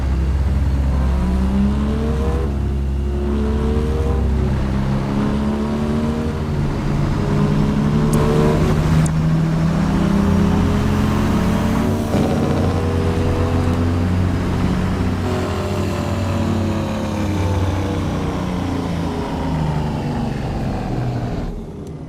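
A Detroit Diesel truck engine in American Truck Simulator revs loudly and close, its pitch rising and falling in repeated sweeps over a continuous low rumble, with no talk.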